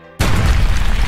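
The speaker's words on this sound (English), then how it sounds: "The venomous balls hit both of them, and it causes a huge explosion." A huge explosion effect from a One Piece manga recap erupts after a brief quiet moment, a loud sustained boom with rumbling, crackling debris that fills the rest of the clip.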